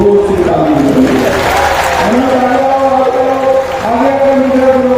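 A large crowd at an outdoor political rally in Vasai roars steadily, with dense clapping and a chanting swell of many voices holding loud and unbroken from start to finish.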